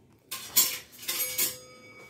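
A spoon scrapes and clinks against a bowl while groundnut and corn chatpat masala is mixed by hand, a few short close metallic strikes and rattles spread over two seconds with no talking.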